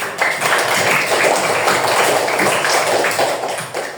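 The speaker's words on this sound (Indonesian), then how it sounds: "tepuk tangannya" Clapping hands from a class of students in a classroom, a dense steady patter of many claps filling the moment with no one talking over it.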